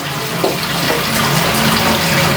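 A continuous rush of hot water splashing into a sink, loud and close, with no pauses.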